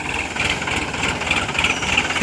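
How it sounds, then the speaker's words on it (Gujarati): A tractor engine drones steadily at close range while digging up a peanut crop, a continuous mechanical rumble with slight rhythmic fluctuation. "ટ્રેક્ટર છે, મગફળી કાઢી રહ્યા છીએ અમે"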